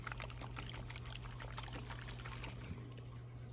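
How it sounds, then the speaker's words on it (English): Water splashing and trickling steadily in a fish tank under a low constant hum, fairly quiet and continuous, tapering off near the end. "You hear water shaking"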